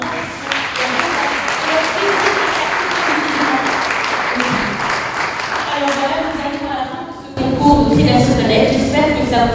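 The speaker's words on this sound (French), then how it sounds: "je vous demande vraiment de les applaudir ces finalistes pour leur ambition" An audience at a French business event applauds the competition finalists with sustained, dense clapping throughout, steady and loud, joined toward the end by scattered voices and cheers.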